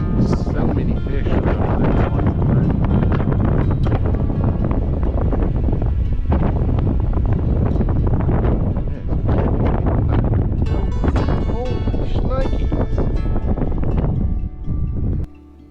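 Strong wind buffets the microphone on a riverbank during a fishing trip on the Escatawpa River, a loud continuous roar that drowns nearly everything, easing only at the very end.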